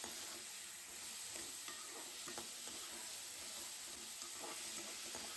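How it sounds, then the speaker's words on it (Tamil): Tomatoes and onions sautéing in a pan for paneer gravy give a faint, steady sizzle with occasional soft stirring scrapes, continuous and quiet, with no one talking. "அதையும் இது கூட சேர்த்து நல்லா வதக்கிக்கிறோம்"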